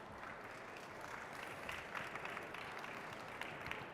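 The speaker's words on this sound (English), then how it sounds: "Please, a round of applause for Mike, please." Faint, steady applause from a conference audience, a dense patter of many hands clapping continuously at a distance.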